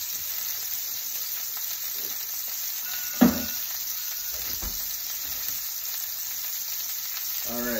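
Steak frying in butter in a pan gives a steady, moderately loud sizzle throughout, broken by one sharp clatter near the middle and a few small knocks.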